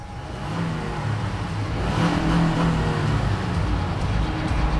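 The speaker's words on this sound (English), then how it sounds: "Idles smoothly, revs up beautifully." A 2008 Honda Odyssey EX minivan with a VTEC engine and 118,000 miles runs close by, with a steady, loud engine hum that swells gently as it revs, and no talking.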